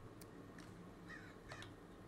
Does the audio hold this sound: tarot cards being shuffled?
no